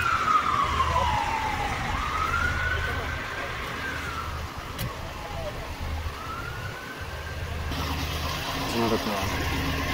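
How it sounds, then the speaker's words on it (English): An ambulance drives away from a rollover crash scene with its siren wailing in slow rising and falling sweeps, heard at a moderate distance over steady street noise, with people talking faintly in the background. "And there goes the ambulance with the victim."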